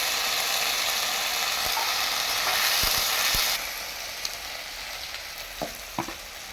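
Ground spice paste sizzling and crackling as it hits hot oil in a pan, loud and hissing at first and then settling to a quieter fry with a few clinks of a utensil.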